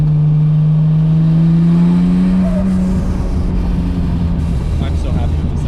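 A Nissan R34 GTR with titanium individual throttle body intakes makes a wide-open-throttle pull, a loud close engine note that climbs steadily in pitch and then turns into a rougher, broader roar.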